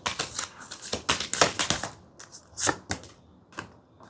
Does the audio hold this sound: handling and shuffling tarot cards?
yes